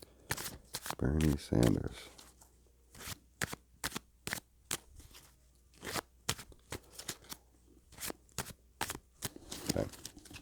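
Playing cards are shuffled in quick crisp bursts of riffling and snapping, with one louder flurry near the start, under a voice talking.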